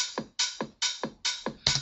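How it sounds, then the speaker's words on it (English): An open hi-hat sample in FL Studio repeats in a steady pattern of five bright, sizzling hits, each decaying quickly with a softer accent between them. The hits are crisp and close, with no voices. "choose a hi-hat sample"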